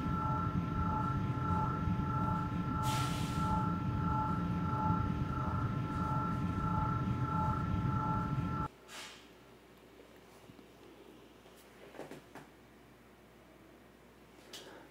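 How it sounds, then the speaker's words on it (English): Spaceship sound effect for a game built in Unity: a loud, steady droning hum with sustained tonal layers that cuts off abruptly, leaving a quiet room hiss with a few faint bumps. "This is gonna be for the spaceship."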